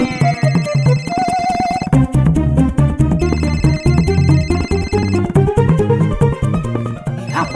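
A mobile phone rings with a loud, melodic electronic ringtone playing continuously, its tune shifting through repeating phrases and carrying on for several seconds without any talk over it.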